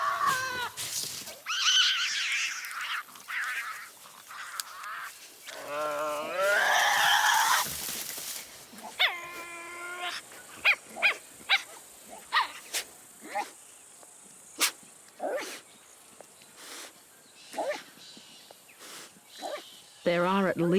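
Tasmanian devils vocalize at feeding time, with a burst of harsh screeches and wavering growls early on, then a string of short sharp yaps and barks spread across the rest, loud and close.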